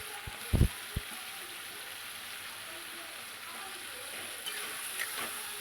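Potatoes sautéing in a spiced shol fish curry give off a quiet, steady sizzle, with a few sharp spoon knocks near the start and faint scraping later on.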